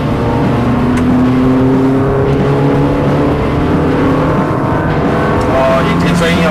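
Car engine held at high revs on a highway test drive in Taiwan: a loud, steady, droning tone that stays close and constant throughout, while someone talks over it.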